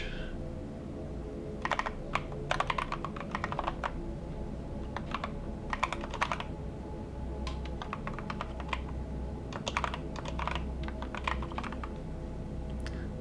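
Keys on a computer keyboard clatter in irregular bursts of quick taps with short pauses between, close and fairly crisp over a steady low background hum.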